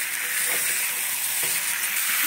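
Meat braising and being stirred in a hot pan with bay leaf and coriander leaves: a steady, close sizzling hiss throughout, broken by a couple of soft scraping stirs.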